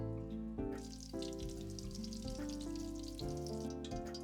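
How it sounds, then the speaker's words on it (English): Cabbage cutlets crackling and bubbling in hot oil as they deep fry, heard under loud tonal music throughout. "I deep fry them as well."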